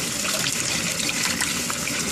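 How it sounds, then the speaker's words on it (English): Dirty water from cleaning brass rifle cases drains out of a sink, a loud, continuous gushing rush of water with no talking. "Get all that dirty water out of there."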